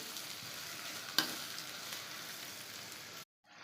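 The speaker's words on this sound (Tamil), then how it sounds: "நான் எப்பயும் இந்த வெங்காயம் வதங்குறப்பயே உருளைக்கிழங்கையும் போட்டுருவேன்" Onions and potatoes fry in a pan with a steady, close sizzle and bubbling crackle, broken by one sharp clink near the start. The frying cuts off abruptly just before the end.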